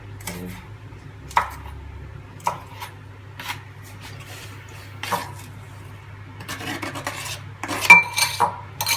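Food being cut on a board while cooking rice with baked beans and mackerel, a series of spaced knife taps and clicks, close and fairly soft, growing busier with clattering toward the end.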